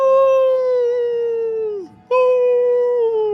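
A human voice imitates a wolf howl in two long sustained wails, the first sliding down and breaking off before the second starts strong, loud and close.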